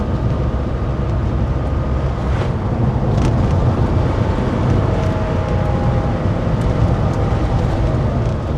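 A 1985 Porsche 911 Carrera cruising with its windows down: loud, steady wind buffeting and road rumble fill the cabin, with the engine blended into the low roar and no talking.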